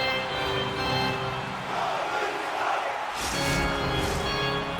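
Dense crowd roar inside a hockey arena during a tied NHL 26 playoff game, a steady wash of cheering and shouting with swells and bursts of excitement, loud and continuous throughout.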